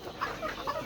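Young chicks of a local desi breed cluck in short, close bursts through a brief moment, several birds overlapping in a busy coop with no voices.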